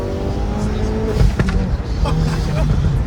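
A modified Hyundai Elantra N accelerates hard with its tires spinning, the engine roaring loud and close with tire squeal, while people talk over it.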